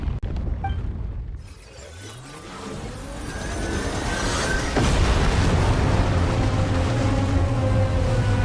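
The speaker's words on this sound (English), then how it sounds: "The ground, it's shaking!" Ground shaking in a video game near water: a deep, loud rumble swells and builds over several seconds, with crackling debris and a low roar that stays heavy to the end.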